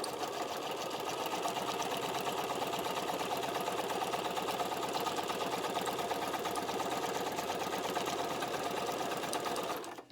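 A sewing machine runs a zigzag stitch through folded paper journal pages, a steady, even mechanical whir with fast rhythmic ticking, close and continuous for about ten seconds before it stops.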